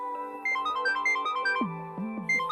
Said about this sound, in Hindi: राहुल मेरा फोन उठाओ